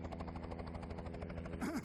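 Helicopter bringing a bride to the groom's home in Ujjain, a steady low rotor thump with engine hum throughout, close and continuous, with a brief higher whine near the end.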